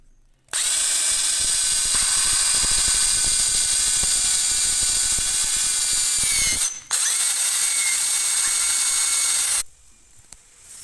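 A power drill fitted with a porcelain tile bit bores holes in porcelain tile, a loud steady high whine running for several seconds, stopping briefly, then resuming before cutting off, with no talk.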